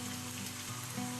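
Sweet ham frying in a pan: a steady, even sizzle with a faint continuous hum underneath, quiet and unbroken throughout.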